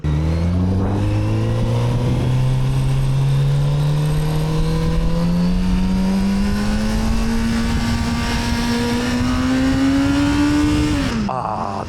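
A Kawasaki Z900RS SE inline-four on its stock exhaust pulls hard through a long rising rev sweep, loud and close, its smooth howl climbing steadily before dropping off sharply at the end.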